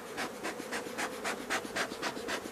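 Bees buzz steadily around an opened hive body during beekeeping work, a dense close drone with rhythmic swells roughly every quarter second and no voices.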